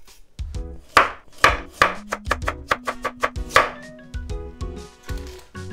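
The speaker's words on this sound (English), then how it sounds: "And then I'm just going to cut into bite-sized pieces." A knife chopping carrots into bite-sized pieces on a board for a Japanese chicken hotpot, a quick series of crisp close cuts with uneven spacing.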